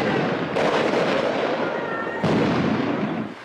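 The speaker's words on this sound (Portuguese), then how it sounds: "Quando os polícia vêm, vai e solta fogos." Fireworks are let off as a warning when police approach, giving a loud, dense barrage of crackling bursts and pops that surges twice and carries on almost without pause before tailing off.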